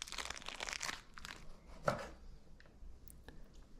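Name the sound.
opening and cutting a Hormel pepperoni stick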